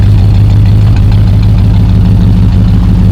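A 1970 Chrysler New Yorker engine idles steadily with a deep, continuous rumble through dual exhaust, loud and close, with no pauses or voices.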